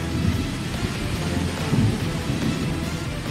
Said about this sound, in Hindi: कड़कती बिजली के साथ मूसलाधार बारिश ने पूरे शहर को अपनी चपेट में ले लिया।